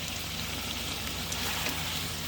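Chicken curry sizzles steadily in a hot pan as it is stirred, a dense, continuous frying hiss close up with no talking.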